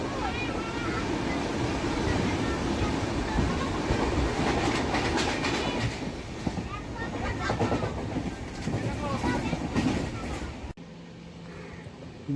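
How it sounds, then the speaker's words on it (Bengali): A passenger train pulls out from a station platform, rumbling with a rhythmic clickety-clack of wheels over rail joints, loud and close for most of the stretch before it cuts off abruptly near the end; voices can be heard faintly in the background. "আর এই প্ল্যাটফর্ম থেকে ট্রেন এখন ছেড়ে বেরিয়ে যাচ্ছে।"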